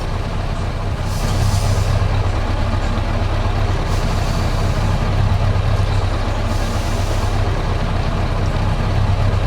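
A 1988 Kenworth K100 truck engine in American Truck Simulator rumbles steadily at close range, with brief hissing bursts like air brakes recurring over the low drone.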